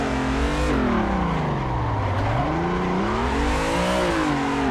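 A car engine in Assetto Corsa on Xbox One howls continuously while drifting, its revs swinging up and down through the run, loud and steady with no talk.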